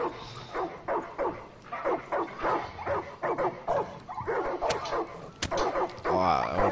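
A dog in the video game Far Cry 5 barks repeatedly in a quick, uneven series of sharp, close barks mixed with yips, over faint game background noise.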